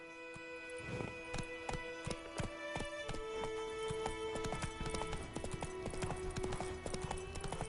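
The horse Roach galloping in The Witcher III: Wild Hunt, a quick, even run of hoofbeats clopping close and clear across the whole stretch, with tonal game music underneath.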